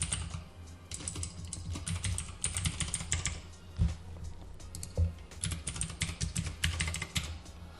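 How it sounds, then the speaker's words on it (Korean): A computer keyboard clicking fast and close as a login ID is typed, an irregular patter of keystrokes with short pauses and a few harder taps. "자, 아이디 입력을 해보겠습니다."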